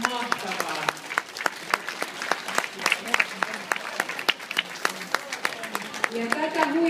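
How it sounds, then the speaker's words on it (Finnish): Audience applause after a ballet performance by a Finnish ballet company, crisp sharp claps from a moderate crowd, dense and rhythmic, with voices mixed in among them. "annetaan raikuvat aplodit"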